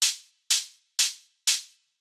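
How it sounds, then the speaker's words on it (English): A simple center hi-hat sample for a dubs and edits production, four crisp bright hits spaced evenly about half a second apart, each with a short decaying sizzle, alone and fairly quiet. "Very simple hi-hat."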